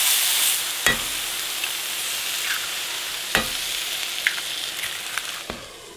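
Eggs frying with frozen multicolored bell peppers in a pan, a steady soft sizzle and hiss with a few sharp clicks of a utensil stirring and scraping, close by with no voices.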